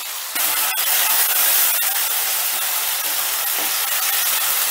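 Ground spice paste and a splash of water hit a hot pan of tempered spices while cooking banana flower: a sudden loud sizzle bursts in and settles into a steady, close, hissing roar.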